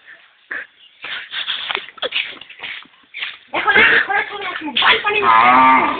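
A cow moos loudly and at length through the second half, after a stretch of quieter scattered sounds and indistinct voices.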